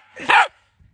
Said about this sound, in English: It's like she's geolocating the ball with her barking.